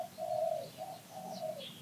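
Morning birds outdoors at a yoga retreat, with soft repeated dove-like cooing and a few faint chirps at moderate distance, no voices.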